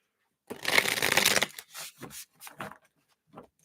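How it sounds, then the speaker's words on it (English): A riffle shuffle of cards, a long rapid flutter followed by several shorter taps and bridging sounds, close and clear. "Let me give these a couple shuffles."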